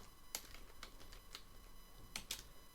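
Quiet keystrokes on a computer keyboard while entering Python code, a handful of light, sparse taps spaced irregularly and heard close without speech.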